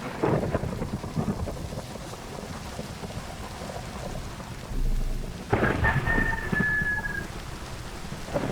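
Thunderstorm on an island in the game Ashes Forsaken: steady heavy rain patters throughout while deep rolls of thunder rumble, with a louder crack partway through.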